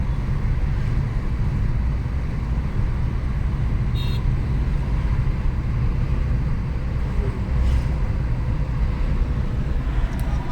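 Steady road traffic on a flyover near the Electronic City metro station in Bangalore, a continuous loud low rumble of passing vehicles with wind-like noise throughout and no talk.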